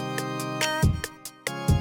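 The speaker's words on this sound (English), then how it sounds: "Next thing I'm gonna do is add a hi-hat." Crisp hi-hat ticks on every second beat at a steady, even spacing over a looping electronic beat with deep bass thumps, made in FL Studio 20.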